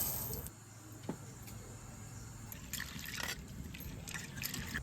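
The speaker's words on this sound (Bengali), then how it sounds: "এবার আমি ছোলার ডাল আর এই মসুরির ডালটা আমি ধুয়ে দিয়ে দেবো" Chana and masoor lentils being rinsed in water, with soft trickling and sloshing bursts against a steady background hum, no talking.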